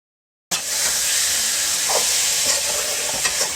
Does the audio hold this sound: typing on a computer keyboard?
no